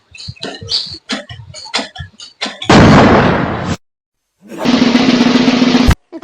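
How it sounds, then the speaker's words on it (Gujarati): A bicycle tire bursts while being pumped up during a comedy sketch, with a few short knocks and clicks first and then two loud, harsh, blasting noise bursts of about a second each, separated by a brief silence. "મારી સાયકલ ની ટીપ ફૂટે છે બીજા કોઈ નહીં"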